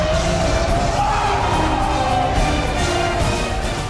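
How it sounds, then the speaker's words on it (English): A football stadium crowd roars from beyond a tunnel on game day, a dense, continuous cheering wash with a faint tonal hum, heard at some distance and steady throughout. "we get to hear the crowd bumping."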